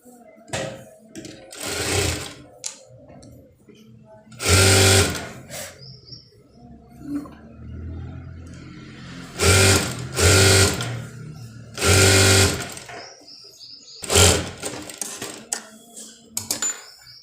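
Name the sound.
sewing machine stitching a blouse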